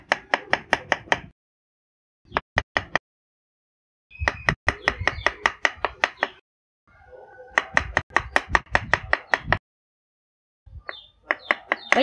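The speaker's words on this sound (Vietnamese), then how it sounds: "Nấm rơm chúng ta cũng bằm nhĩ luôn. Mình sẽ có nấm rơm bằm nhĩ." Straw mushrooms are finely minced with a knife on a board, producing bursts of rapid, crisp, evenly spaced chops separated by short pauses, close and clear.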